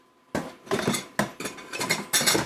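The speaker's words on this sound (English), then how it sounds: "let's get the whisk out and move this around a bit" A metal whisk knocks and scrapes inside a pot of sausage and kale soup, giving a series of close, clinking strikes in an uneven rhythm with no talk over them.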